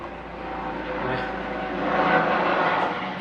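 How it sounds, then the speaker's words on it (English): A helicopter passes overhead late at night, a steady broad rotor and engine drone that swells slightly toward the middle and stays fairly distant throughout. "Helicopter going about."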